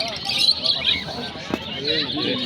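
Dense, high chirping of many lovebirds close by at an animal and bird market, mixed with indistinct human chatter in the background.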